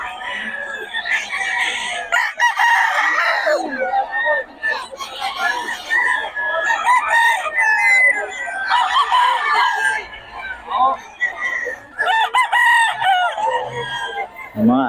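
Roosters at the Bocaue market crow loudly and repeatedly at close range, with clucking and other birds mixed in and a noisy crowd around them.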